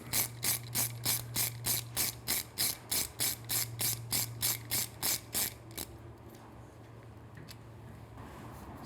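A ratchet tightens a T30 Torx bolt on a motorcycle exhaust system: about twenty crisp, evenly spaced clicking strokes up close, then the clicking stops and only faint handling noise remains.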